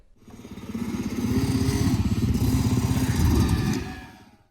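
A Yamaha YZ125 two-stroke dirt bike, ridden at about one-eighth throttle before a jet kit install, sputters and bogs with a rough, pulsing engine note that swells and fades over a few seconds.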